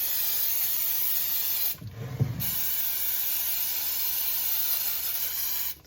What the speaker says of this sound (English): Now it's time to spray the top.